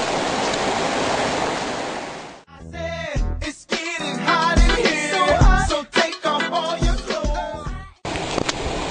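Water rushing along the Kaibab Trail in the Grand Canyon: a steady broadband wash of flowing water, close and fairly loud, which cuts out partway and gives way to a louder, busier passage.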